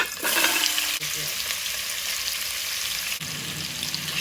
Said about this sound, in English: music to my ears. Love that sizzle.